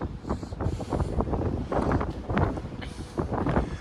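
Heavy wind buffets the microphone in continuous rough gusts, loud and close, with nothing else clearly audible.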